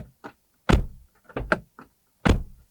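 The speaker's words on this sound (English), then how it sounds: "And this is what the door slam sounds like." The door of a Mini Countryman electric SUV is shut, giving several solid thunks with smaller clicks and taps between them, close by and with no voices.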